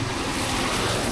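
Swift floodwater rushes in a flooded village in Mempawah, a dense, close roar of flowing water with wind buffeting the microphone, steady throughout the brief moment.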